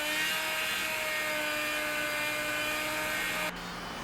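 A Dremel 4000 rotary tool with a spinning disc works on a knife during restoration, giving a close, steady high-pitched whine that drops off sharply near the end.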